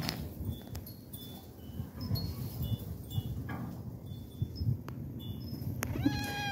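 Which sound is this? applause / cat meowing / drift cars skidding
cat meowing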